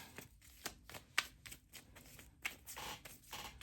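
Tarot cards being shuffled for a reading, a quick run of crisp riffling slaps and flicks with uneven rhythm, close and fairly quiet, with no voices.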